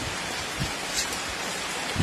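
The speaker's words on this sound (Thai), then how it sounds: "ฝนตกฝนตก" Rain falls steadily outside, heard from inside a house as a constant hiss with a few louder drips, and no voices.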